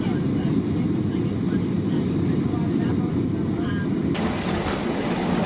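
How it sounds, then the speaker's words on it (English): A Qantas Boeing 737 touching down on runway 24 at Perth Airport, heard from the cabin as a steady, loud roar of engine and airflow noise, with a brighter rush of sound joining near the end. "my camera again failed to capture a smooth landing onto runway 24 at Perth Airport"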